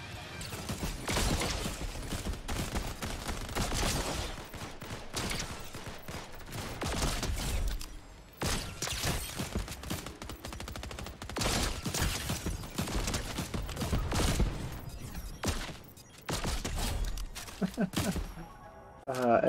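Lock-on pistol fire in Fortnite, bursts of repeated close shots in uneven volleys with short gaps, under people talking.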